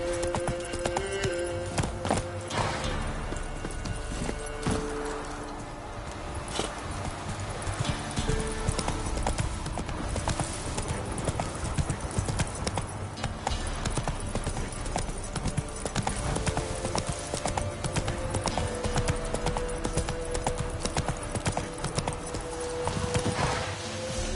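Horse hooves clip-clop steadily at a gallop in The Witcher 3 (next-gen update), a continuous loud rhythmic clatter running throughout with game music and ambience, plus occasional brief voices.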